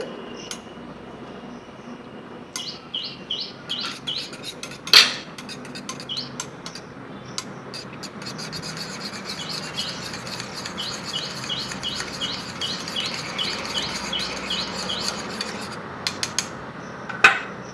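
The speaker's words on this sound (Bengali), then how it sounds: "এবার দেব মিষ্টি দই একটু ফেটিয়ে নিচ্ছি দইটা" A spoon whisks sweet curd in a bowl, making soft, quick, repeated clinks and scrapes at close range, while birds chirp in the background throughout.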